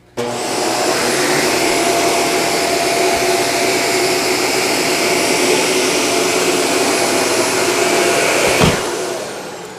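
A Shark vacuum cleaner makes a backward pass over carpet, its loud, steady motor whine droning close by from switch-on to a sudden drop near the end.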